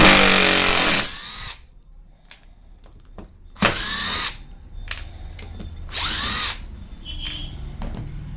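Bosch GDR 180Li 18V cordless impact driver running in reverse to back screws out of wood, several loud close bursts of whirring motor and hammering impacts, separated by short pauses and light handling clicks.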